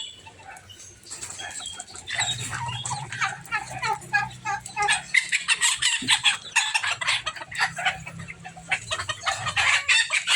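Turkey chicks and their mother in a farmyard, a busy chorus of high-pitched peeping and chirping with intermittent clucks, fairly close and continuous, with low background rumble and no speech.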